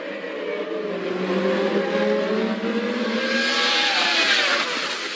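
High-pitched racing engines scream and rise in pitch as cars accelerate, a steady loud roar of several cars together with no one talking.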